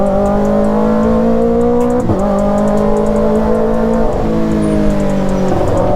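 A Kawasaki ZX motorcycle with a crossed header exhaust revs at low RPM, its engine note rough and steady. It dips and rises briefly twice, close and loud, with no talking.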